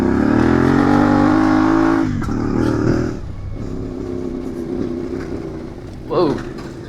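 A CFMOTO 450MT adventure motorcycle climbs the rough Monaghan Bluff bridle track, its engine droning loud and steady before easing off, with brief revs and rattles over uneven ground.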